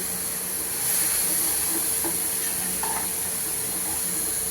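Chopped banana stem sautéing in a pan gives a steady, moderate sizzle and hiss throughout, with a few faint stirring clinks and no voices.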